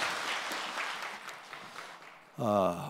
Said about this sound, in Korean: 우리 큰 박수로 하나님 앞에 영광 돌리겠습니다